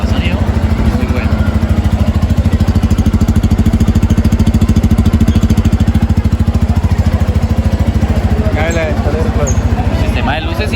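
A Bajaj Pulsar N250 motorcycle with fuel injection idles and runs, a loud close steady engine throb with a fast regular pulse, continuous through the whole stretch.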